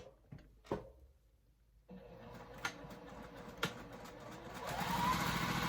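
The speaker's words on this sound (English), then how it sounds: "I'm just going to stitch the rectangle" A sewing machine stitches a fabric rectangle, starting after a few soft clicks and then running in a steady, quiet mechanical whir that speeds up toward the end.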